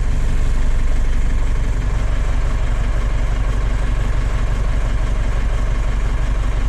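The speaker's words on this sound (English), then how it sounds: "stationary vehicle, engine idling" A heavy DAF LF truck diesel engine idles loudly and steadily nearby while stationary, a constant low rumble with a rapid throbbing pulse throughout.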